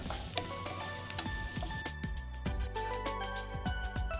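Vegetables sizzle and crackle loudly in a hot pan as celery and spring onion are stir-fried for a Chinese-style dish, with a continuous hiss broken by scraping stirring strokes and no talking.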